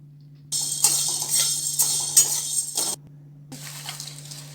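Black peppercorns for a Solapuri kala masala dry-roast over a low flame, a close rattling, scraping shuffle with a light sizzle as they are stirred in the pan, in two bursts separated by a brief silence.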